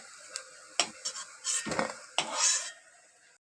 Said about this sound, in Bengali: বড়াটা ভাজা হয়ে গেছে, মটর ডালের বড়া। এবার উঠিয়ে নেব, বড়াটা তুলে নিলাম।